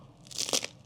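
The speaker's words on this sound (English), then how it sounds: "we like to eat these rye crackers when we run out of fresh bread" A quick, close crunch of a bite into a dry Finnish rye cracker, one crisp crackling burst lasting under half a second against near silence.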